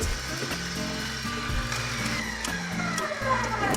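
Eggs are whisked with an electric mixer in a bowl, giving a steady, fairly quiet whirring hum that wavers slightly in pitch for several seconds, with no talk.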